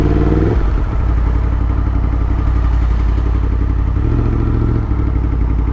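A motorcycle engine runs loud and close while the bike is moved out of a tight shed, a steady rumble with occasional clatter and a brief dip in pitch.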